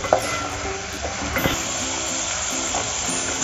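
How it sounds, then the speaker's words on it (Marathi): Onion being sautéed in oil in a pan for a village-style cowpea pod bhaji, giving a steady, moderate sizzle with a few stirring scrapes and clicks throughout, no voices. "कांदा व्यवस्थित परतून घ्यायचा आहे, लाल करायचा नाही आहे।"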